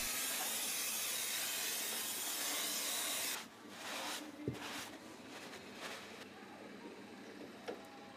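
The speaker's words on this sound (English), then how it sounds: "clean the braking system with Wurth brake cleaner to remove dangerous dust and contamination" Wurth brake cleaner sprays from an aerosol can onto a car's braking system, a steady hiss for about three seconds, followed by quieter scattered clicks and handling noises.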